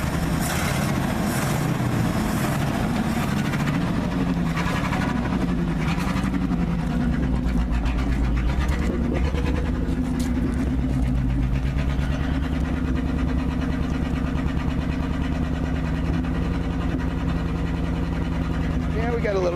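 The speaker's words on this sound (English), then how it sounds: "Boy, that puts a draw on that engine," An old Ford bumpside pickup truck engine runs close by with a steady low rumble and some revving, its note dropping as the power steering loads it. Someone talks over it.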